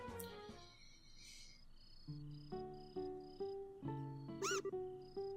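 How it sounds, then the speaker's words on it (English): Several short, tonal meows from a cat in the video game Trails in the Sky sound over soft musical notes and a faint chirp, fairly quiet. "Meow!"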